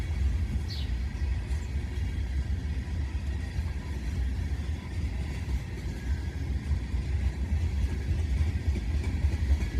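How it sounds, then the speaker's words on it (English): Two heavy freight trains, one a complete unit tanker train, rumble past each other under a bridge, a deep continuous roar of rolling cars with faint rail clatter, loud and close throughout. "both of them pass under the bridge"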